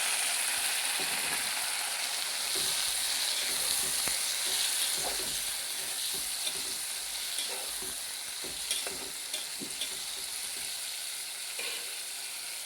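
Tomato and drumstick pieces frying in a hot pan, a steady close sizzle throughout with faint stirring clicks and taps scattered across it, no talk.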